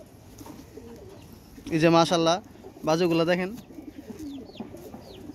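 Blue and silver pigeons coo low and softly in the background while someone talks nearby.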